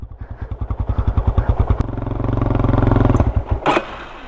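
A Yamaha Raptor 250 quad's engine chugs in rapid pulses, then revs up into a sustained, rising drone before easing off with a brief clattering burst near the end; the sound is loud and close, with no talk.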